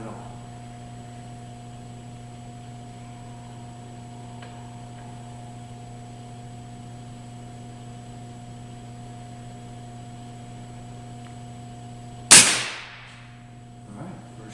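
A gun fired with the artillery hold technique lets off one sharp, loud report near the end, after a long quiet stretch of steady electrical hum. The crack is brief and fades quickly.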